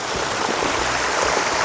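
Water from a garden pond waterfall rushes steadily and close by, forming a continuous, even splashing roar with no pauses for the full length.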